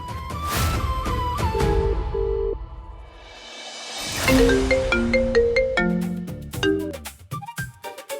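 A phone rings on an outgoing call, a loud melodic ringtone playing a repeating sequence of electronic tones that runs continuously and close.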